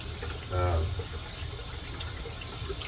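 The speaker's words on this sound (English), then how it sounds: "if you hold your brush up like this and you run the water straight down and you move it around" Running tap water splashes briefly over a shaving brush, a short, close gush of about half a second that then drops to a low hiss under room noise.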